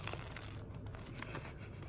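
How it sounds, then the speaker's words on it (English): Crisp crunching of a bite into a crispy beef and cheese snack in Hanoi, Vietnam, a close, continuous crackle and crumble lasting a couple of seconds with no talking. "I'll take a bite to show you the crunch."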